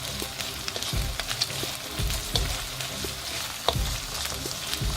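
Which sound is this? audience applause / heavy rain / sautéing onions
sautéing onions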